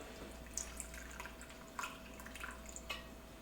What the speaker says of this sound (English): so we're just gonna add a little bit of warm water